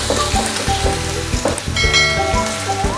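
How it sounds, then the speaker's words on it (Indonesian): Steady close sizzling as tempeh is stir-fried with palm sugar in a pan for dry fried tempeh with anchovies and peanuts, with scraping stir strokes over a constant frying hiss and soft music in the background. "Ditumis terus hingga air gula jawanya susut ya teman-teman"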